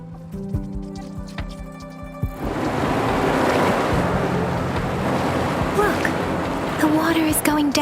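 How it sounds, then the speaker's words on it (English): In Wuthering Waves, water recedes as a broad, steady rushing wash that surges in after a tonal musical passage and fills the scene loudly, with a few chirping accents over it toward the end. "The water is going down."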